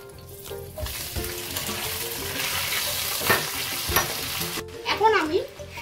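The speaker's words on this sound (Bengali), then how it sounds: "এখন আগে থেকে হালকা সেদ্ধ করে রাখা গাঠি কচুগুলো এতে দিয়ে দেবো" Parboiled taro pieces hit hot spiced oil with dried and green chillies, giving a busy sizzle and frying hiss with scraping stir clatter throughout, loudest near the end.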